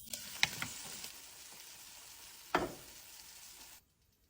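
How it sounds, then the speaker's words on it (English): Meatballs sear in a hot pan with a continuous close sizzle and crackle, punctuated by a few sharper spits and a burst of stirring or turning, before the sound cuts off abruptly; no one speaks. "Once the delicious meatballs are perfectly seared, we're going to carefully take them out."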